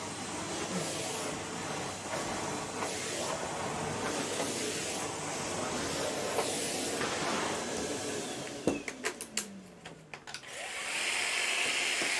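A vacuum cleaner roars continuously across a carpet with a steady hiss, briefly interrupted by a few bumps and clicks along the skirting boards before the motor resumes.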